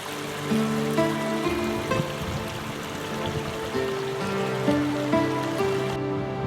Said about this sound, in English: The river cascades beautifully in yet another waterfall down from Achriabhach